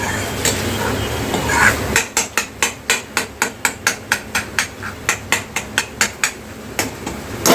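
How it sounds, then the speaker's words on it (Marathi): Eggs are beaten in a bowl, a fast, regular run of sharp clinking taps, about three per second. The tapping is close and crisp, and a softer stirring rustle comes before it. "आता ही अंडी मिक्स करायचे आहे चांगली मिक्स करून घ्यायची आहे"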